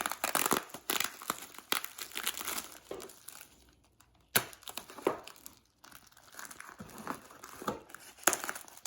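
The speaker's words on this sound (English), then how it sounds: "Watch out for the noisy tape." Noisy adhesive tape peeled off the packaging of a personal radio cassette player: continuous close crinkling and tearing of tape and plastic in uneven bursts, loud and busy throughout with no speech.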